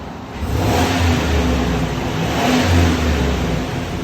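A 2021 GMC Sierra 3500 HD with a 6.6L gas V8 and a Vibrant Street Power muffler revs in two swells, a steady low rumble rising and falling close by with no talking.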